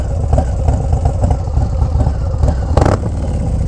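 A Harley-Davidson Low Rider S with a heavily worked engine and an aftermarket muffler gives off a deep, steady, loud engine rumble throughout, with a brief sharper burst near the end.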